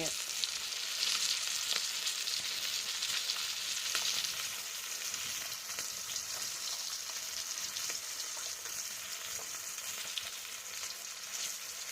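Steady, loud sizzling and crackling of fish frying in hot oil in a pan, continuous throughout with no talking.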